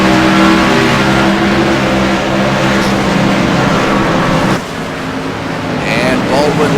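Race cars thunder through the esses at Sonoma Raceway during a Wounded Warrior Cup Series race, a dense continuous engine roar with shifting pitch as cars pass, under steady race commentary.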